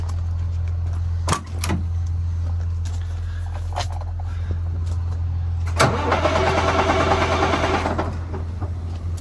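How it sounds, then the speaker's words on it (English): A farm truck with a starting fault cranks and tries to start over a steady low hum, with brief clunks and then a louder grinding cranking stretch that fails to catch. "This truck is having an issue"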